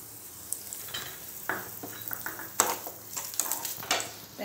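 Grated coconut stirred and fried in a pan while cooking parupu payasam: a steady sizzle with scraping spoon strokes and clinks of the utensil against the pan, close and clear, with no one talking.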